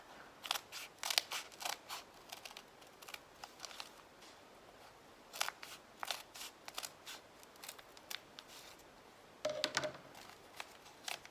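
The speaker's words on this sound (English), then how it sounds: "So take your scissors" Scissors snipping through felt in clusters of crisp, quick cuts with short pauses between, close and fairly quiet, with no talking.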